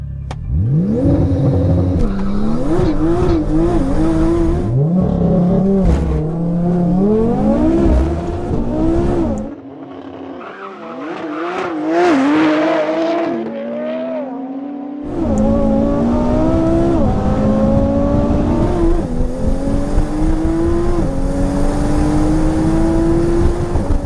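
A tuned Porsche 911 Turbo S in a drag race roars through hard acceleration with rising revs and quick gear shifts, briefly dropping away to a quieter whine mid-run before surging back loud and close.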